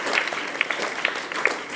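Audience clapping at a school investiture ceremony, a short burst of scattered, fairly dense hand claps from a hall crowd, with a few louder individual claps standing out.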